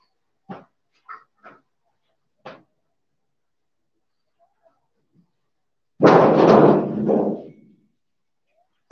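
A dog barks a few times in short, separate bursts at moderate distance, followed a few seconds later by a louder, longer burst of broadband noise.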